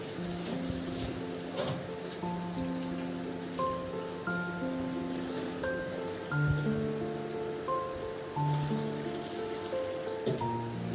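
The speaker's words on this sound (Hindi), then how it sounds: "कितनी गंदी पानी निकल रही है" Continuous rain-like splashing and trickling of dirty water draining out of a home aquarium during cleaning, a steady close wash of water with melodic music playing over it.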